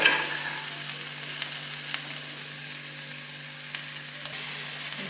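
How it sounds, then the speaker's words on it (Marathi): Mixed vegetables sautéing in a pan for paneer pulao, giving a constant close sizzling hiss with a low steady hum and a few faint clicks of stirring, no voices. "आता भाज्या छानपैकी आपल्या परतून झाल्या"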